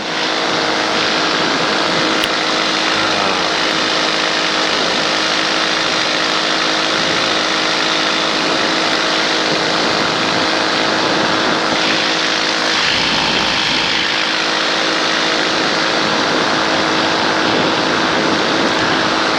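A light propeller aircraft in flight, with a steady, droning engine and propeller hum from a helmet microphone, continuous and loud with a slight dip midway, no talk.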